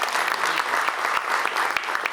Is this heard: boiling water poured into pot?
no